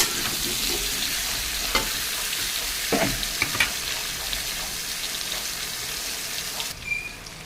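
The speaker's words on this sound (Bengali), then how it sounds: "যার জন্য আমি একসঙ্গে ভেজে নেব সব ফোড়ন দিয়ে।" Tempering spices fry in a pan with a steady, loud sizzle, broken by a few sharp stirring clinks and scrapes before it cuts off near the end.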